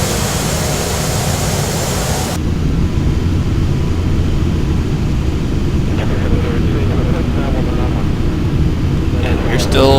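An Aeroflot airliner's engines in the Flight Simulator X video game roar as a loud, steady, unbroken drone that fills the whole stretch.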